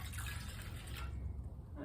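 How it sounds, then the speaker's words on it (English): Water runs into a bucket to mix drywall mud, a continuous splashing, rushing stream that sounds close and then thins out near the end. "Let's go ahead, get some water in here so it doesn't,"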